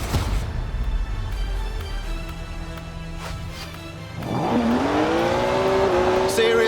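A BMW 1M driven in the Forza Horizon 4 racing game, with a steady engine drone under a voice, then a loud revving rise and sustained high-pitched engine whine in the final seconds.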